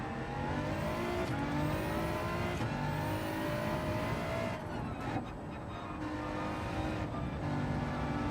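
A GT4 race car engine in Gran Turismo 7 revs hard and continuously, pitch climbing and dropping through gear changes, with a brief tire scrub mixed in and no talking.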